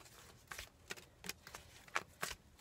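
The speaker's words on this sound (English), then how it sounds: "I just want to make sure it's good and shuffled." A deck of oracle cards is shuffled by hand in a quiet room, with six or seven soft, quick riffling bursts spaced roughly evenly.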